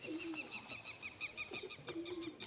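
A female racing pigeon gives soft, low cooing calls in a couple of short phrases, close by and fairly quiet against a faint background hiss.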